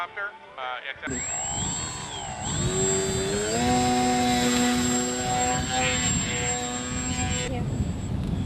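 A trainer airplane climbs away into the air with a droning engine whose pitch rises and holds steady, loud and close at first, following a short stretch of talk at the start.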